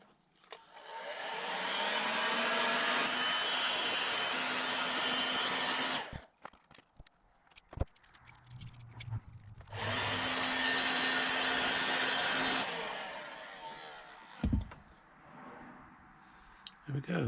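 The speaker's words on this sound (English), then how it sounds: "Use a heat gun." A heat gun blows to seal an earth cable on a VW T3/T25 van, making a loud, steady rushing roar in two bursts of several seconds each, with quieter handling clicks and a short gap between them.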